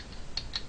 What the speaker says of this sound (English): I'm just pressing all the buttons on my keyboard right now, not my mouse at all.